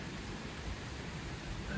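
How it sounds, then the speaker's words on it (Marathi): Sudden rain falling at a home on Diwali: faint, even, steady hiss throughout, with no talk. "अचानक मध्ये पाऊस चालू झालेला आहे"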